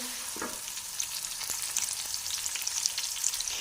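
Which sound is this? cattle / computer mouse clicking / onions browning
onions browning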